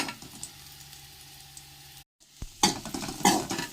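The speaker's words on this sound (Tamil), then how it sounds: "நான் புளி அதில் போட்டு வதக்கிக்கிறேன்" Dried red chillies and tamarind sautéing in a pan for thoodhuvalai chutney, a steady low sizzle with spoon scrapes against the pan, a brief silent gap, then louder stirring clatter toward the end.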